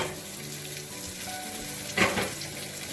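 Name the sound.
food sauteing in a pan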